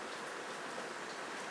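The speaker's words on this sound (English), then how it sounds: "it's raining, cats and dogs." Steady heavy rain hisses evenly throughout, a dense wash of drops with no pauses and no voices.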